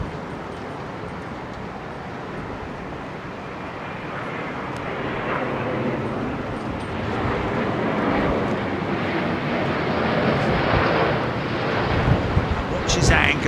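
An airliner landing at windy Heathrow Airport, its broad roar building steadily over the final seconds, with heavy wind buffeting the microphone throughout and no talk.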